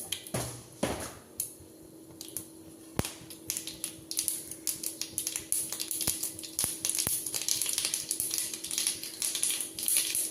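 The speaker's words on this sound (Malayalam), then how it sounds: "കുറച്ച് കടുക് ഒന്ന് പൊട്ടട്ടെ" Mustard seeds crackle and pop in hot coconut oil in a pan, making irregular sharp snaps over a steady sizzle that grows denser toward the end, close up with no talk.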